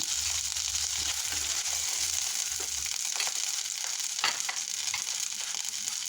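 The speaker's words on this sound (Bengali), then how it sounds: "এখন বাকি মাছগুলো আমি বেজে নেব" Katla fish sizzles in hot oil, a constant crackling fry with soft scraping and stirring sounds from a utensil in the pan.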